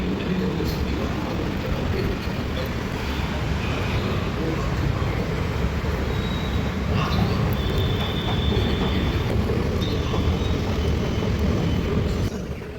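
Hyderabad metro train in motion near Jubilee Hills, a loud continuous rumble of wheels and carriage with steady broadband roar and faint high whines throughout, heard from on board.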